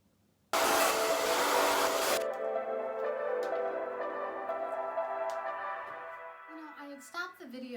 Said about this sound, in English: I'll see you after I blow dry my hair